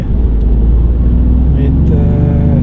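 A Toyota Yaris GR with a three-cylinder engine and Stage 2 tune drones loudly from inside the cabin while driving, a deep steady rumble that shifts pitch near the end, with a voice talking over it.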